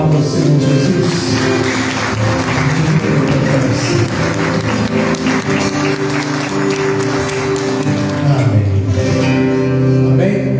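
A church congregation applauds the Lord Jesus, loud sustained clapping mixed with organ or keyboard music and some vocal sound, holding steady for about ten seconds before thinning slightly.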